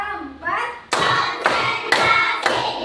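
A group plays an ice-breaking clapping game in a classroom, with a voice speaking, then a few sharp, evenly spaced collective claps landing about half a second apart.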